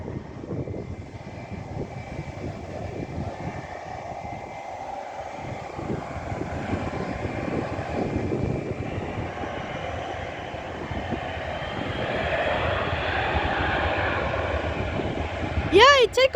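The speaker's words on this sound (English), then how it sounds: "Now they take off. They'll make so loud." Airliners taking off at an airport, a broad jet engine roar building gradually and growing louder toward the end, heard from a distance with people talking over it.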